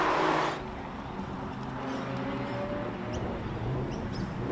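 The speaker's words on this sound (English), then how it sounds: "So there you go, you've got Audi, BMW and Mercedes all heading down into the hairpin" Race cars including an Audi, BMW and Mercedes run toward a hairpin on a rally stage at Hermitage, their engines a steady distant drone after a short louder burst at the start, with no talking.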